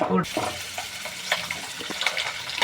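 Amla (Indian gooseberries) laid into hot oil for pickle on a lowered gas flame, giving a steady crackling sizzle with a sharp initial hiss, close and bright.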